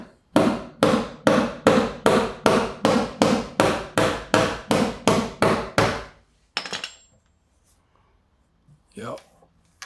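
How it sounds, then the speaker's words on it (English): About a dozen steady, evenly spaced hammer blows ring out close by as a high spot is knocked down on the mangled steel rear quarter panel of a 1984 Porsche 944; a pause and a few faint knocks follow. "There's a high point here that I'm going to have to hammer down."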